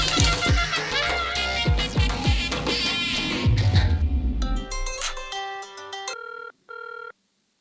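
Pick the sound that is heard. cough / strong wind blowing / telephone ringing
telephone ringing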